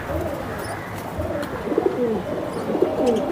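Pigeons, a female among a mix of Giribaz and Silver Bezi fancy breeds, coo in soft repeated phrases close by amid faint background chatter and rustling.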